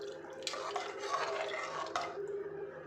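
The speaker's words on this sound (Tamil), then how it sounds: "இன்னும் கொஞ்சம் இது தண்ணி பார்த்தா அது ஊற்றணும்." Water is poured into washed rice and dal for sambar rice in a pressure cooker, a quiet, steady splashing trickle with a few brighter spills.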